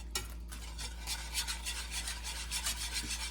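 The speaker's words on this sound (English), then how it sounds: "we're just going to whisk it in slowly to make sure that the flour fully incorporates in" A whisk scrapes rhythmically against a pan as flour is slowly worked into stroganoff sauce, a soft repeated rasping close by with a low steady hum underneath and no talk.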